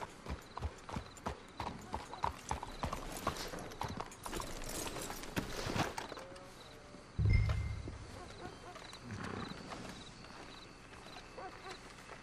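Horse hooves clip-clop steadily in Red Dead Redemption 2, a rhythmic walking gait that fades partway through, followed by a low thud and faint ambient game sounds.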